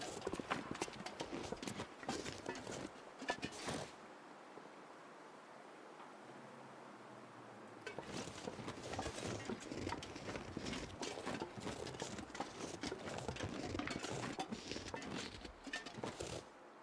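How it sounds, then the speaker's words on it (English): Crunching footsteps in the survival game The Long Dark, rapid, steady treads on snow that run for a few seconds, stop briefly and then resume for a longer stretch. "I thought I was hearing footsteps."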